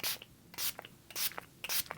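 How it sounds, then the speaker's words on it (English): LA Girl makeup setting spray misted in several short, soft hissing bursts, about four evenly spaced puffs close to the mic with quiet pauses between. "So I'm just using the LA Girl setting spray."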